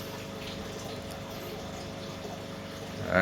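Water from an aquarium sump pump runs and splashes in a steady, continuous trickle with a low pump hum beneath, louder near the end.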